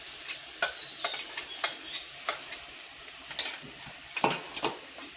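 Crushed ginger, garlic and green chili paste sautéing in a pan. A soft frying sizzle sits under repeated sharp clicks and scrapes of a spoon stirring against the pan.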